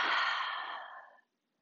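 A single long, breathy exhale during a yoga flow, close and soft, gradually fading out before silence.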